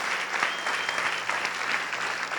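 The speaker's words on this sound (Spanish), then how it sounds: "Dele por lo menos un aplauso al Señor Jesucristo por eso." A church congregation claps together in steady, even applause for a few seconds, with no other sound over it.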